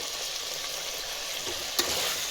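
Tomato and green chilli fry in hot oil for chicken biryani, a dense steady sizzle with one brief stir clack near the end.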